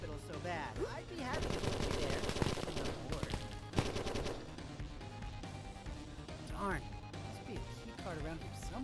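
Rapid machine-gun-style gunfire bursts from a weapon in the Bane Murrain demo video game over loud music and effects. Voices talk throughout.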